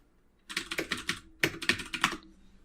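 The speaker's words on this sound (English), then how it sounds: "Loud keyboard." Loud clacking on a computer keyboard in two quick bursts of rapid keystrokes, close up with a short pause between them.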